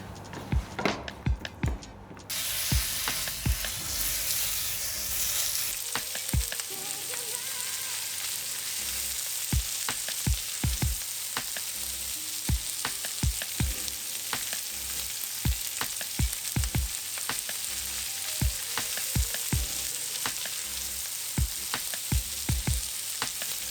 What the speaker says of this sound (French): Je vais juste le poêler